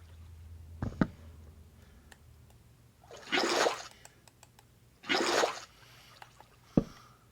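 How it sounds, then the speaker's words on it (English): Water splashing out of a bucket in Minecraft, two separate bursts of gushing water a couple of seconds apart, with short clicks before and after, fairly quiet against a low hum. "Then we go fill up the water bucket"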